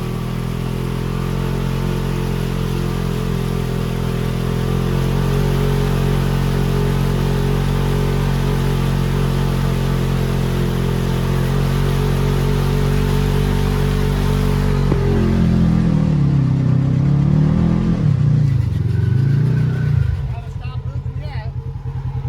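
Vehicle engine held at a steady, loud rev while the machine digs in, with speech over it; after about fifteen seconds the pitch dips and wavers as the load changes, then the engine drops back.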